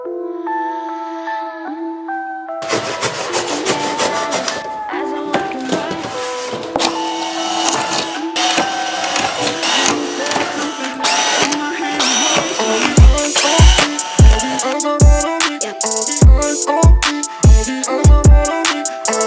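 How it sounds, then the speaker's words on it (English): A power drill bores pilot holes through carbon fiber side skirt extensions on a BMW F87 M2, starting as steady whining runs and ending in short, repeated bursts, loud and close. "I think the best way to do this is to simply pilot the holes all the way through."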